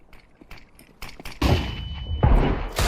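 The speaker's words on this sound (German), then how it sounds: "Die Deagle One-Taps in CSGO." Counter-Strike: Global Offensive gunfire: a few quiet clicks and shots, then loud heavy Desert Eagle pistol blasts with booming echoes.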